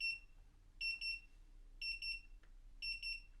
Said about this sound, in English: if the box is left open, an alarm will sound after 30, 60, and all the way up to 120 seconds.